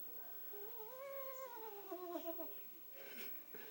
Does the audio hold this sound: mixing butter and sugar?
no